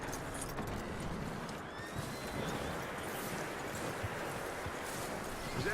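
A horse in Red Dead Redemption 2 moves with steady clip-clop hoofbeats and occasional snorts, set within a dense, continuous layer of game ambience.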